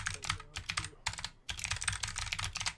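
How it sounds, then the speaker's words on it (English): Rapid, close typing on a computer keyboard, with dense bursts of key clicks and a couple of short pauses. "Here, listen to my typing. Click, click, click, click, click."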